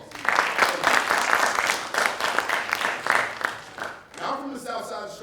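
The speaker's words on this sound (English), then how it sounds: "All right, everybody give Josh a round of applause." A conference audience breaks into loud, sustained applause, many hands clapping together before it thins out near the end.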